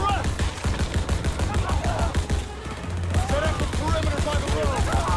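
Rapid, sustained automatic gunfire from a World War 2 video game, dense bursts of shots running nearly the whole time with a brief lull midway, loud and close, with a voice speaking over it.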